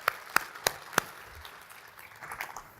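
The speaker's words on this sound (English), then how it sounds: "let's give her a round of applause" Sparse clapping in a conference hall: four sharp, evenly spaced claps up close, then a fainter, scattered patter from a small audience.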